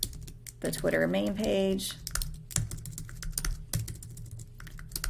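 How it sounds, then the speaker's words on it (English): Clicky computer keyboard typing in quick irregular bursts, close and fairly clear, with a person briefly speaking near the start. "I can't type when people are watching"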